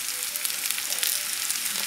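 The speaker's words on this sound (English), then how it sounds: "That sound, that frying sound" Steady, dense sizzling of potatoes frying in hot oil, close and continuous, with faint crackles throughout.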